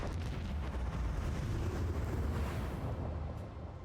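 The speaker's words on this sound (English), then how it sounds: "And we have the lance cannon here." Lance cannon fire in the Warhammer 40k: Rogue Trader space battle, a dense, sustained rumbling barrage of booming blasts holding at full strength for several seconds before easing off slightly at the end.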